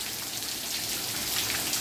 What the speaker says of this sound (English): it started raining like a half hour ago